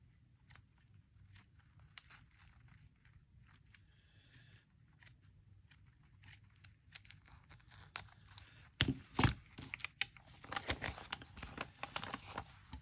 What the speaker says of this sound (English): Just trim this down.